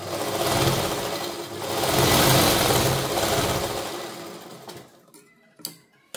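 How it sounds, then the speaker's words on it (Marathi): A sewing machine stitches a saree made for a deity, running in a steady, loud whir for about four seconds before slowing and stopping, followed by a few soft handling clicks. "तर चला आता आपण शिवायला चालू करूया."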